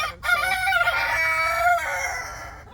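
In a backyard homestead coop, a rooster crows loudly and close by over a group of chickens, with the crow's long drawn-out call standing out clearly.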